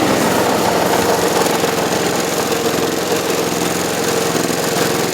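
A cold John Deere GX75 riding lawn mower engine runs roughly at close range, a loud continuous uneven chugging drone that fills the whole stretch.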